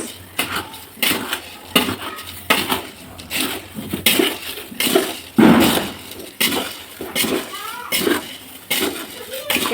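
Fried poha chivda is tossed and mixed in a pan, producing repeated scraping and clattering bursts of metal against dry flakes in an uneven rhythm, close and fairly loud.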